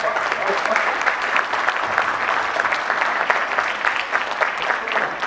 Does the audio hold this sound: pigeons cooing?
no